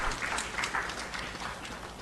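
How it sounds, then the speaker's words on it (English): Audience applause at a formal ceremony in Ghana, a steady wash of clapping from a crowd that stays fairly even and moderately loud for the whole stretch, with no voice over it. "Shall we please give him another round of applause?"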